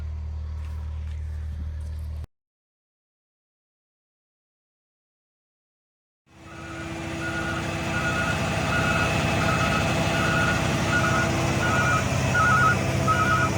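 An excavator works on a dirt access trail: a steady diesel engine rumble returns after a brief silent gap, joined by a regular, repeating reversing beep that carries clearly above the engine.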